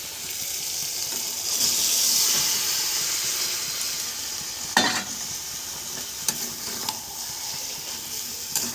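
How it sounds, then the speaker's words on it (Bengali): Boiled potato and cabbage being stirred into a sizzling gravy, a steady frying hiss with scraping stirs and a few sharp clatters of the spoon against the pan. "এবার আমরা এই গ্রেভির মধ্যে সেদ্ধ করে রাখা আলু ও বাঁধাকপিকে দিয়ে দেব।"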